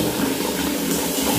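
Water runs steadily from a tap, a continuous close hiss and splash with no pauses.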